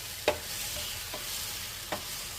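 Spicy garlic Maggi noodles with grated jaggery are stirred in a pan under a soft steady sizzle, with three quick scraping strokes of the spoon, the first and last clearest, and no voices.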